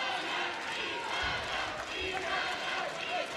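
Spectators at a men's −74 kg taekwondo final at the World Championships in Manchester cheer for an Italian fighter, a dense crowd noise with shouts rising over it while a commentator talks on top.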